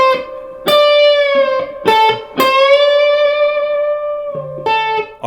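Played slowly on electric guitar, the solo lick comes as separate picked notes with bends, each left to ring and sustain before the next, ending on a lower plucked note.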